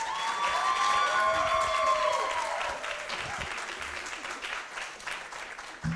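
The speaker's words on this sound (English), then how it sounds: "So how about one more round of applause for them?" A crowd applauds college tour participants with sustained clapping and some cheering, while a whistle-like tone rises over the first few seconds before the clapping carries on alone.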